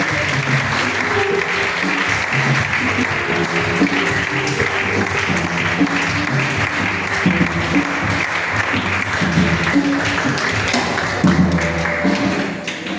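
A church congregation claps steadily and densely for about thirteen seconds, a loud, continuous wash of applause with occasional stronger bursts.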